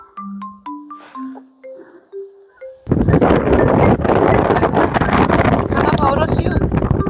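Strong wind roars at a snowy seaside in the countryside during a heavy snow and cold wave warning. It is loud and continuous, buffeting the microphone after a quieter opening of tonal sounds.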